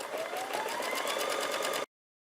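A Baby Lock embroidery sewing machine with a magnetic hoop frame stitches in a fast, even, close whirring rhythm for nearly two seconds, then stops abruptly.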